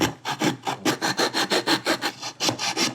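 A handsaw cuts through wood in a steady back-and-forth rhythm, about a dozen loud, close, rasping strokes with brief pauses between them and no talking.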